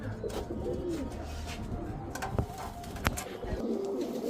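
Racing pigeons, a breeding pair of male and female, cooing softly in a loft amid low background noise and a few sharp knocks.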